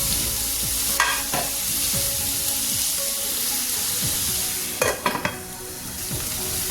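Onions for chicken curry fry in a pan with a constant, close sizzle, while a spoon stirs and scrapes against the metal in two short bursts of clatter.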